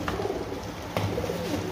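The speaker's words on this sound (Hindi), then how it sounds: "गोल्डन कबूतर है मादी है" A female golden pigeon coos softly in a low, throaty murmur, with a brief rise near the middle of a short stretch and no talk over it.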